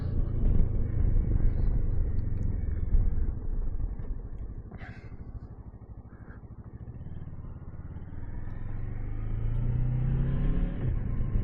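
A Kawasaki Versys 650 motorcycle engine rumbles steadily while riding, with a brief easing of throttle midway before the drone builds again.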